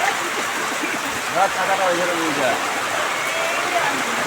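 Steady rain patters and hisses throughout in Kerala, with a person talking over the downpour.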